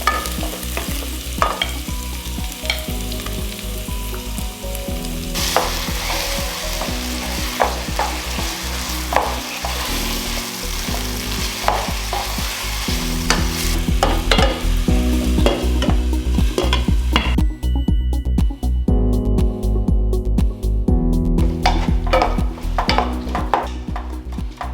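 Marinated turkey mince and mint leaves frying in a pan while being stirred, with loud scraping and clinking of a utensil against the pan over a continuous sizzle, close and busy throughout, without speech.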